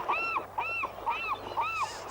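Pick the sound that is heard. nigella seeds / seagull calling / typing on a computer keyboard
seagull calling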